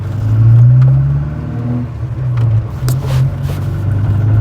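Modified Volvo 240 with a torquey engine, heard from inside while driving along at low revs: a loud, steady low rumbling drone with slight swells, and a few faint clicks and knocks on top.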